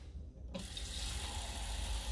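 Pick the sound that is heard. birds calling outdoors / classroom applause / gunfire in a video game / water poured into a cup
water poured into a cup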